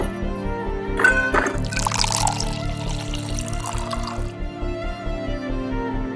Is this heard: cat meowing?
no